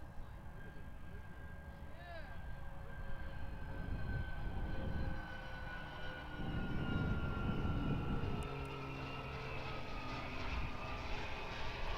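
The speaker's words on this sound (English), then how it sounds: "the next arrival is a bit of a smaller one to what we're used to. A Cessna 441 Conquest, operated by Western Sky Australia." Cessna 441 Conquest operated by Western Sky Australia arriving at Perth Airport, its engines a faint, distant drone under ambient noise, swelling slightly midway.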